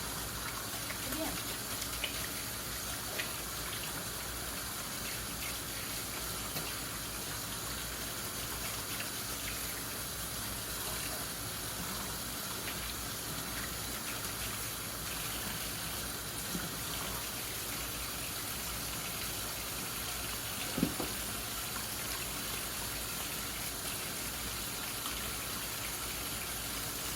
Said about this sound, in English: we're going to wash my hands